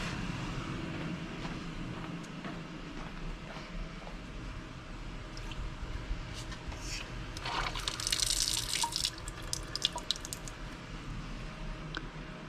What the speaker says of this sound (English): And we will fill up with DI water.